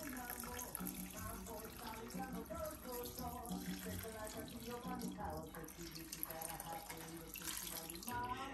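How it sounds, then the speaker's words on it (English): Fresh cold water pours steadily into a cooking pot with a continuous splashing gush. It fills about eight seconds, and faint voices sit in the background beneath it. "Now, to top that off, a quart or so of fresh cold water."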